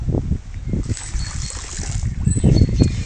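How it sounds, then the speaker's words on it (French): Holy water trickles and splashes onto the bank of a stream, a low, uneven slosh and gurgle heard up close, with bursts of handling noise mixed in and no other sounds. "Je verse cette eau bénite sur le bord du ruisseau"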